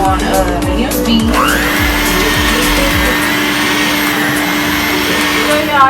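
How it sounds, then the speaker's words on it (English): An electric hand mixer running at medium speed, beating mashed potatoes with milk in a home kitchen: a loud, steady motor whine with rhythmic thumps from the beaters, with a voice briefly talking over it. "then we're gonna mix it up with our little mixer here. I'm just gonna start on medium speed."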